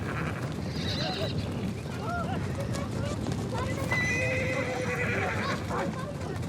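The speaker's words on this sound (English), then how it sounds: "for breaking in the horses" Mongolian horses whinny several times over steady clip-clop hooves as they are broken in, with a busy outdoor background and voices mixed in.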